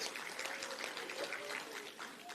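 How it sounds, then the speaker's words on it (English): A crowd applauds at an ANC political rally, a faint, steady wash of clapping heard at a distance, with a voice murmuring underneath. "Yes, we should applaud to that."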